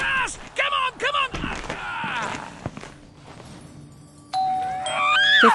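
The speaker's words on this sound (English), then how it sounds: "15th doorbell." A doorbell in the Roblox game Schoolboy Runaway gives a bright ding-dong near the end, held as a clear sustained chime, preceded by footsteps, creaks and a voice talking over earlier clatter.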